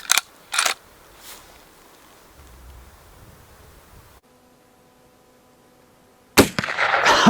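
A long-barrel Colt rifle fires outdoors: after a few soft clicks and a long quiet stretch, a single loud, sharp crack bursts out near the end, its blast trailing off.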